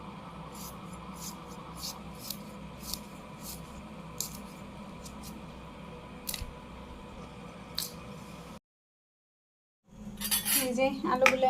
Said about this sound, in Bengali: এখন আলু কাটুন